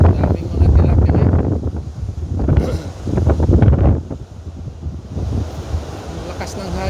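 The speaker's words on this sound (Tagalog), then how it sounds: "Ang lakas ng hangin kapag ganito pala." Strong wind gusts buffet the microphone beside a river mouth next to the sea, a loud roaring rumble with surf behind it, swelling and easing in waves throughout, with some talk mixed in.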